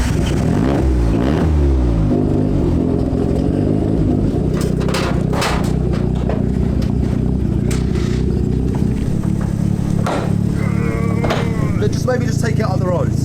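Mazda RX7 rotary sports car rumbles loudly close by, its engine revving and rising as it pulls away, with occasional clatter and scraping over the continuous roar.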